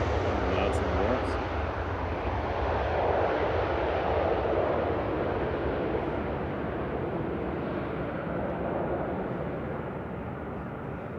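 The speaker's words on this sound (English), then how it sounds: "Thirteen-year-old A321 Classic operating that DAIDE with flight 947" Airbus A321 Classic jet, thirteen years old, departing Manchester Airport for Frankfurt, giving a loud, steady broadband engine roar that swells slightly midway and eases toward the end, with a voice talking over it.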